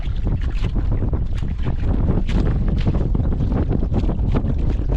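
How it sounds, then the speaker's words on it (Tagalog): Strong gusting wind at sea buffets and roars continuously, with rushing noise rising and falling, loud and close, no voices. "Hangin na."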